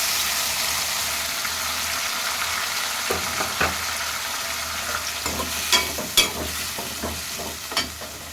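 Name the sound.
frying onions, curry leaves, green chillies and tomatoes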